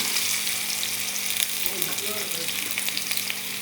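Spices fry in hot mustard oil, giving a dense, even crackling sizzle close to the ear with a few faint stir sounds and a small clink at the end.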